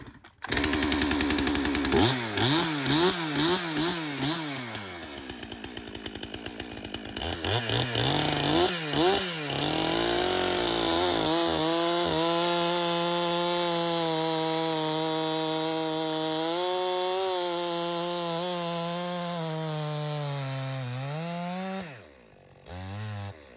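A chainsaw runs loud and close for about twenty seconds, its engine pitch rising and falling as it revs and bogs while cutting firewood, then it cuts off near the end.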